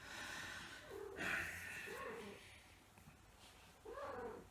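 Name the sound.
cat meowing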